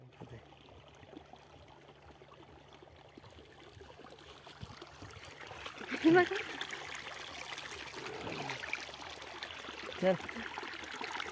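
Soft, steady trickle of water flowing through a wheat field, faint and continuous with a few small splashes, while people talk quietly nearby.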